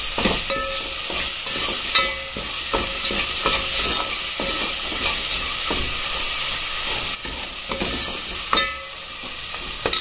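Masala for a restaurant-style dal fry, just salted, sizzles and hisses steadily in the pan while a spoon stirs it with repeated clicking scrapes, loud and close for about ten seconds.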